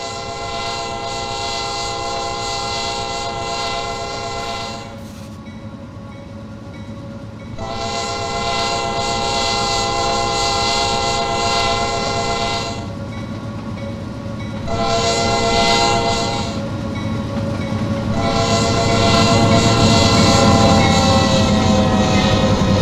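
A Norfolk Southern empty oil train led by an SD70M locomotive rolls past in a railroad simulation, with loud continuous rumbling and wheel clatter under repeated long, sustained multi-tone horn blasts.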